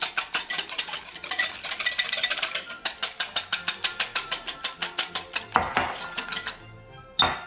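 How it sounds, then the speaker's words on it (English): A whisk beating custard for French toast in a bowl, fast regular metallic clicks against the bowl sides, loud and close, slowing into a few scrapes at the end. "And you just whisk it."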